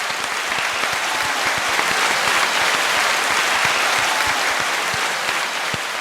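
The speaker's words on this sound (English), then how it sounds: "round of applause for our guests" Steady applause from a small group for guests on a podcast, dense and continuous clapping that stays at an even level for the whole stretch with no talk over it.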